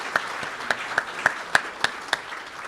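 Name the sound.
applause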